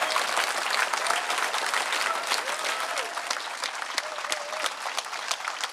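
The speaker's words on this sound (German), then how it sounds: "Danke vielmals für Ihren Applaus." Steady, sustained applause from an audience at a public panel discussion in Switzerland, a dense even wash of clapping holding its level for the whole stretch, with a faint voice briefly audible beneath it.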